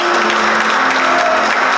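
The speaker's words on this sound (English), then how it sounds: "give him a round of applause." A brief burst of audience applause, dense and loud, clapping steadily throughout.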